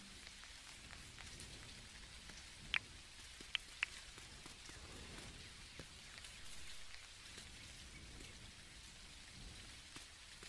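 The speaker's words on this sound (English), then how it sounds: "Sorry about the rain" Steady rain falls in the video game Dinkum, a soft continuous patter of drops with a few sharper ticks early on, quiet and alone with no voices.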